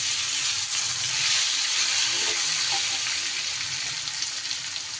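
A medium-sized chopped tomato fries in hot oil for kasundi paneer, giving an even, continuous sizzle close up with faint stirring underneath and no voices.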